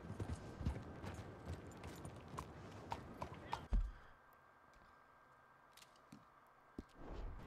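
Horse hooves clip-clopping in Red Dead Redemption 2 as the rider nears a general store, a quiet steady patter of steps that fades into near silence before a few faint knocks return.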